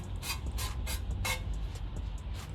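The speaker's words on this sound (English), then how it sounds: "With the loaf tin, I'm just going to spray some oil." Several short bursts of cooking oil spray hiss into a loaf tin in a quick series, close by, over a low steady background hum.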